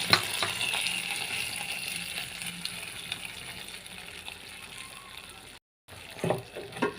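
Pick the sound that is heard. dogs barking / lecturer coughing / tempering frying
tempering frying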